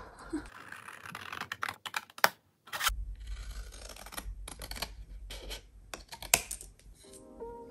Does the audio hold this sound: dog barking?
no